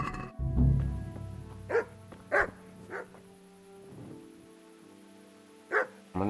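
A dog in the video game Kingdom Come: Deliverance barks in short separate bursts, about five sharp woofs spaced irregularly at moderate distance, with quiet gaps between them.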